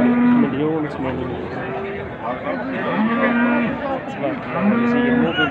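Cattle at a Sunday livestock market in Ouled Frej, Morocco, moo repeatedly and loudly from close by, several overlapping calls amid a busy crowd murmur.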